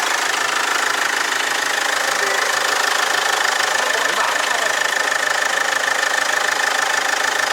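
A Hyundai Santa Fe (CM) car engine runs steadily at idle, a continuous rumbling hum with a faint knocking texture, close by and unchanging throughout.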